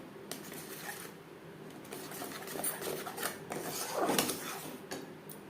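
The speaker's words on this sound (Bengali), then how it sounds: "লো টু মিডিয়াম ফ্লেমে চার পাঁচ মিনিট মশলা কষিয়ে নেব" Spices fry for a vegetarian tel potol curry in a pan over a low to medium flame. A spatula scrapes and stirs in quiet, irregular strokes, with soft metallic clinks against the pan, close but faint.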